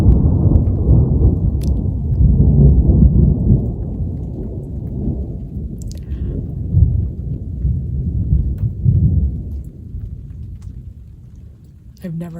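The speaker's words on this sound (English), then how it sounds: "I've never heard thunder like that before." Deep, rolling thunder rumbles continuously along the Rimrocker Trail, swelling and fading in long waves, with faint rain patter and a few soft clicks on top.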